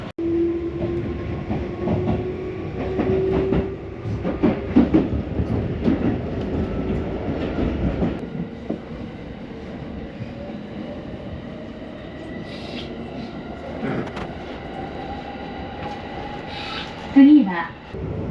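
A commuter train on the Omiya to Oyama route pulls away and runs along, its motor whine rising over a steady rumble and clatter. Faint voices and a few bumps and clanks sound over the noise.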